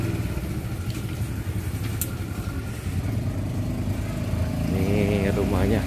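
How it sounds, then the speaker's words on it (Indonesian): A motorcycle goes past on a narrow Indonesian street while people talk nearby, its medium engine humming steadily and rising slightly as it draws near. "Kita kasih motor lewat dulu"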